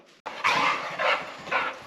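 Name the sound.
dogs barking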